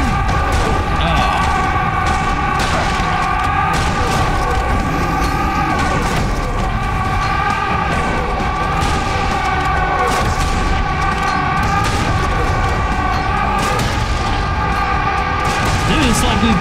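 Explosions and gunfire boom repeatedly in Serious Sam 4 gameplay, thick and continuous over a droning musical score, while players talk over the action.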